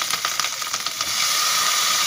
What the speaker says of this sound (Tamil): இதில் வந்து 2-3 பச்சை மிளகாய் அதையும் சேர்த்து போட்டு 2 சேர்த்து வதக்கிக்கோங்க